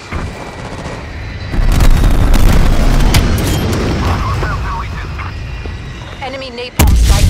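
Heavy napalm strike explosions in a military video game, a sustained loud rumbling roar of booms with a sudden fresh blast near the end, game voices talking over it.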